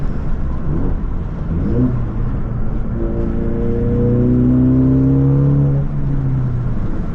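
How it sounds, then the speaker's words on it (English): A Ford Mustang EcoBoost engine revs up through a loud Corsa performance exhaust, pitch climbing in a long sweep, then settling back to a steady rumbling idle. "it is a Corsa performance exhaust"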